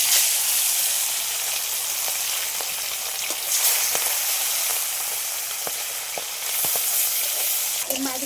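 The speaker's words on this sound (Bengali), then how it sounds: "এবার মাছগুলো সব ভেজে নেব" Tilapia fish fry in very hot, smoking oil in a kadai after being rubbed with salt and turmeric, giving a loud, steady, close sizzle throughout with occasional pops and crackles.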